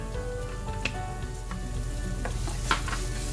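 Curry paste frying in a pan over browned onions, a steady close sizzle with a few sharper crackles and stirring scrapes, no voices.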